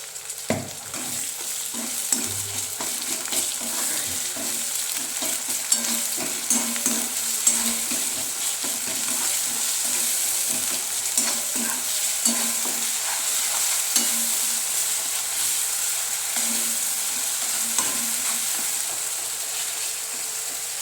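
Raw banana vegetable with salt and tomato stirred and frying in a pan, a steady sizzle under repeated scraping strokes of a spoon against the pan throughout, with no talk.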